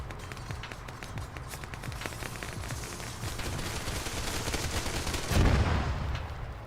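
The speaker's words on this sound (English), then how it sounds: "people shooting at me" Gunfire in the military shooter Arma 3 crackles steadily as rapid distant shots and bursts over battlefield noise, with a heavier close report near the end.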